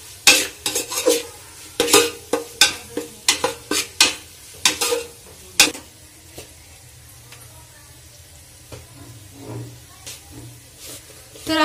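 Vegetables for a dhaba-style mix veg Kolhapuri being sautéed with spices in a pan, with a run of sharp spatula scrapes and clinks against the metal in the first half, then a quieter stretch of soft sizzling.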